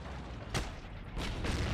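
Muffled explosions in the game Heroes & Generals boom through a constant rumbling din, with a couple of louder blasts standing out.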